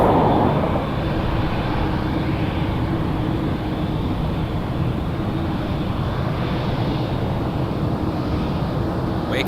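A Boeing Dreamliner jet at Toronto Pearson airport roars steadily at a distance, a broad continuous rumble with wind over the microphone and no voices.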